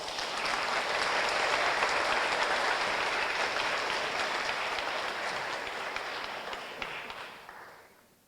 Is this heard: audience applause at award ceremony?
yes